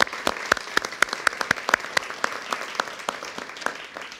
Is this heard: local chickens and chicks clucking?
no